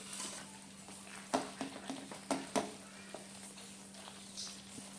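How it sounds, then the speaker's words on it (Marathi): Peas and paneer stirred in a pan for matar paneer, a low sizzle under a handful of sharp spoon knocks and scrapes clustered in the middle, close and fairly quiet, no speech. "आता आपल्याला ह्याच्यामध्ये वाटाणे घालून असं मिक्स करून घ्यायचं आहे।"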